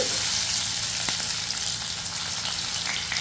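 Garlic with coriander seeds and spices sautéing in a hot pan for a Tamil festival lunch, a steady close sizzle with light stirring scrapes throughout, no talk.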